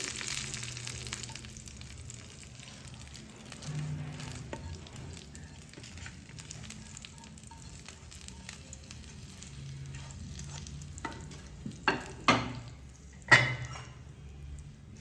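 A hot tempering seasoned with a pinch of asafoetida is poured over dahi phulki, giving a soft, steady sizzle that ends in a few sharper crackling bursts near the close.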